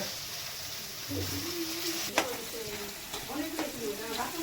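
Onions fry in a pan for fish curry, a steady soft sizzle with occasional stirring scrapes and a brief clink, while voices talk over it.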